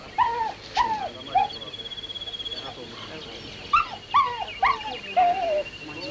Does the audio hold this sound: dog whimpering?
yes